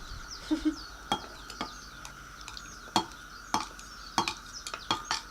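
Melted vegan organic banana bread ingredients stirred in a bowl with a utensil, a series of soft irregular clinks and scrapes against the bowl, close and quiet, with light faint chatter.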